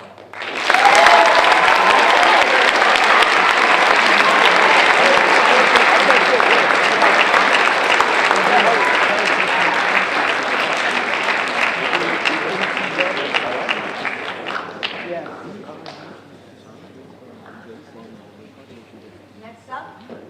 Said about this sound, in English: Thank you, please clap.